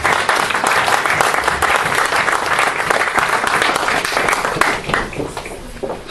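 A church congregation applauding for Azaf, sustained loud clapping from a full crowd that continues steadily for several seconds before easing off slightly at the end.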